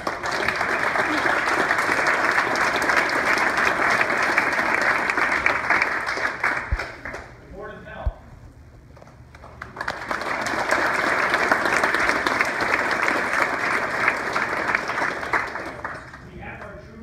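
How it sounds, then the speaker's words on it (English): Sustained audience applause for volunteers at a community gathering, a thick wash of clapping that dips briefly mid-way while someone talks, then swells again and carries on. "we'll have a round of applause."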